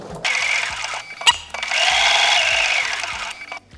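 A sewing machine whirs in two bursts of stitching through a quilt, with a short pause and a click between them as the needle pivots, close and fairly loud.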